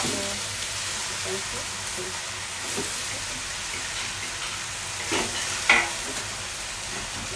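Bihon rice noodles being stir-fried in a pan, a dense continuous sizzle with occasional scraping from the spatula, close and fairly loud.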